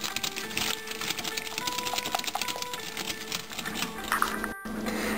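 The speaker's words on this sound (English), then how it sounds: "Whisk it all together really good." A wire whisk beats yum yum sauce, the mayonnaise-based hibachi shrimp sauce, in a bowl, giving a fast, steady clatter of rapid rhythmic clicks that carries on without pause, close and fairly loud.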